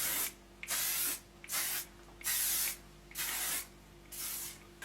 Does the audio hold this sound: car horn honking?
no